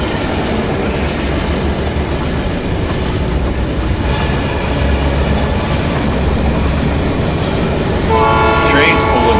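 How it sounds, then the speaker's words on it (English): A freight train pulling cars rumbles past in a trucking video game set in Wyoming, with a steady rolling roar of wheels, and a horn sounds near the end; digital game audio. "Train's pulling some cars."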